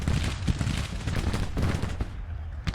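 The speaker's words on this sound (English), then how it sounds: "I hear small arms fire now" Civil War small arms fire rattles in Grand Tactician: The Civil War, a dense, continuous crackle of overlapping musket shots with deep rumbling underneath and no speech.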